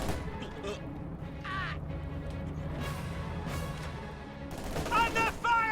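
Scattered gunfire and crackling explosions fill a World War II strategy game battle with MG-34 and PaK-43 guns, a busy, moderately quiet din with occasional sharp bursts and bird-like squeals near the end.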